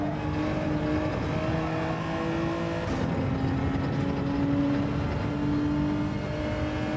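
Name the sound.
race car engine and trail braking in a racing video game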